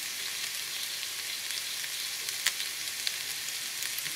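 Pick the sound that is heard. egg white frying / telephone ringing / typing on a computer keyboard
egg white frying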